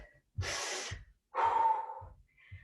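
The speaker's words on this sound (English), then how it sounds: "2 more big breaths" Heavy, effortful breaths after a resistance workout, two long drawn exhales with snort-like inhales between, close and fairly soft, with no talking.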